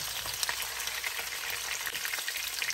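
Carrots and potato fry in hot oil in a pan, producing a continuous, dense sizzle with fine crackles and pops throughout, close and steady, with no other sound standing out.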